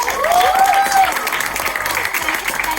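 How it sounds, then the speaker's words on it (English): Loud, dense applause and cheering from an audience of first and second graders at a school street play, a Nukkad Natak, with a brief whistle-like tone early on and voices mixed into the sustained clapping. "So firstly, can we have a big round of applause?"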